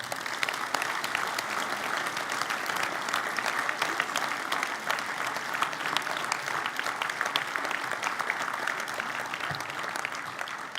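An audience applauding at a Senate New Year ceremony, steady dense clapping from a large room held evenly throughout without a break.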